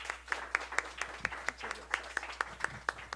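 Applause from a seniors' group at a community session, heard as a sparse series of distinct claps at a steady pace, moderately near and fairly quiet, with faint murmuring in the room.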